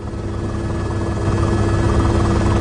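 A rescue helicopter flies on a windy day, its loud steady rotor and engine drone holding constant and close with a low hum underneath and no voices.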